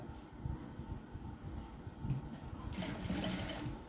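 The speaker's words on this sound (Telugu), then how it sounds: "నెక్ వైపుకి క్రాస్గా స్టిచ్చింగ్ అయితే వేసుకోవాలి ఇలాగ" A sewing machine stitches crosswise along a blouse neck, its rapid steady chatter close and continuous, with a brighter rush of noise near the end.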